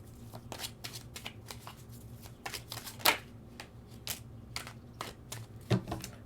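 Tarot cards being shuffled by hand, a series of soft riffling and flicking taps with a couple of sharper snaps, steady and close in a quiet room.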